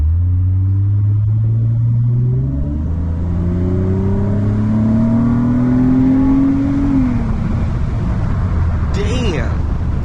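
Engine intake of a 2011 Lexus ES350 in Sport Plus mode with traction control off, accelerating hard: a loud, rising engine roar climbs steadily in pitch, drops at a shift, then carries on under faint road rumble.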